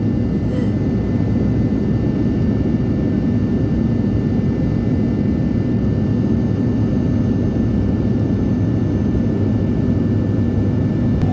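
Steady, loud airplane engine drone fills the cabin throughout a domestic flight from Manipur to Mizoram, a constant low roar with no breaks and no talking.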